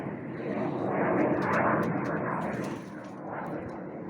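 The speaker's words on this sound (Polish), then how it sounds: "Helikoptery, samoloty, no nad nami niestety co dzień." An airplane flies overhead with a broad, rumbling roar that swells and then eases over four seconds, loud and close, above a pigeon loft.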